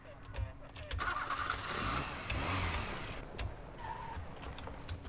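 A car engine in the PC video game Enforcer cranks over and catches, then revs and settles into a mid-pitched running drone, with other game sounds scattered around it.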